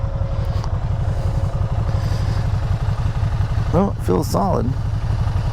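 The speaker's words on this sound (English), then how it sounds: "it's rattling the pegs are just rattling" A 2012 Can-Am Spyder RT-S idles with a steady, rapid low-pitched pulsing while its loose foot pegs give off a light clatter. Someone speaks briefly near the end over the engine.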